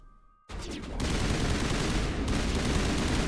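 Sustained, loud gunfire from the Mass Effect 1 Legendary Edition video game, a dense barrage of shots that bursts in abruptly after a brief quiet moment and keeps up without pause.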